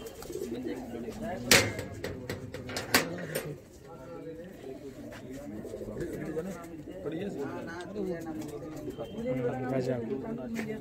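Pigeons in a Delhi loft cooing in repeated soft throaty rolls, fairly close and overlapping, with a couple of sharp knocks early on and someone talking over them.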